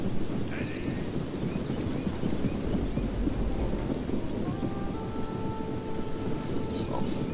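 Steady rain with low rumbling thunder in a medieval battle scene from the strategy game Attila: Total War, a dense, continuous wash with faint tonal game sounds layered on top and no talk.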